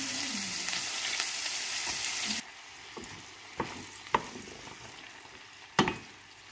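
Onion frying in butter in a hot pan for garlic butter shrimp: a loud, dense sizzle that suddenly drops to a quieter crackle, broken by several sharp clacks of a utensil against the pan.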